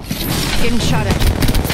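Gunfire in the Apex Legends battle royale game, a dense, loud spray of shots rattling continuously over low rumbling booms, with game voice lines and chatter mixed in.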